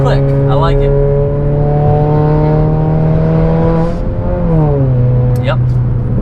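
A 2018 Honda Accord Sport accelerating hard, heard from inside as a loud engine tone climbs steadily in pitch, then drops briefly at two gear shifts before rising again.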